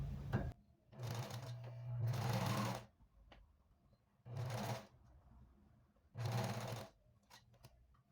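A sewing machine stitches the finishing edge along a dress zipper, running in three loud bursts of rapid mechanical whirring with quiet handling pauses between them.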